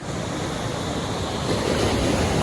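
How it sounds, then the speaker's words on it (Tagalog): Large sea waves break continuously from close by while a fishing boat is launched from shore. The surf roars in a dense, loud wash, with wind buffeting the microphone. "Oh, laki ng alon."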